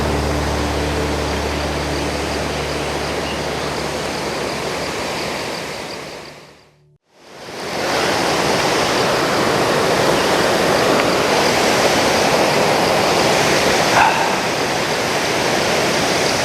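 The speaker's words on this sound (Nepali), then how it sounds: "माथि हेर्नु यहाँ झरना छ" A waterfall at Osho Ashram in Dharan, Nepal roars as a steady, dense wash of falling water, broken by one brief dropout midway before the roar resumes at full strength.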